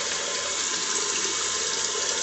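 Shower in a 1990 Chinook Class B RV turned on: a steady, loud, close hiss of spraying water that runs unchanged throughout, with no voices.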